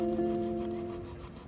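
A brush scrubs painted wood furniture with water, giving a soft, quick rasping rub over a faint steady tonal hum. The sound is close but quiet and lasts a moment, with no voices.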